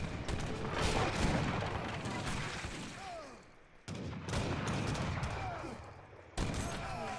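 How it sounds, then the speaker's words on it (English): A fort in Age of Empires III keeps firing its guns as a battle goes on. The volleys come in dense, rumbling bursts with booms and crackling gunfire, broken by brief lulls. "my fort is still shooting at him"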